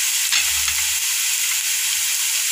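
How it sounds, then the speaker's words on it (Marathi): Curry leaves and vegetables (potato, peas, cauliflower) sizzle and fry in hot oil in a pan, a loud continuous hiss with a brief stirring scrape near the start. "कढीपत्ता घालत आहोत, छान लालसर होईपर्यंत आपण हे सगळं परतवून घेणार आहे"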